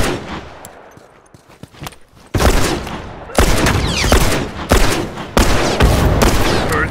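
Rifle gunfire in The Last of Us: scattered faint shots at first, then loud sharp bursts of rapid fire in several close volleys with brief pauses between them.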